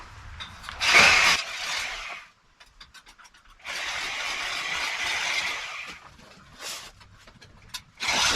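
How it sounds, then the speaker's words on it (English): A power tool cuts through a welded tailpipe at the exhaust manifold of an FJ40, with harsh grinding bursts around one and then three seconds long, separated by quieter gaps and followed by brief shorter bursts. "Got to cut the tailpipe off the manifold."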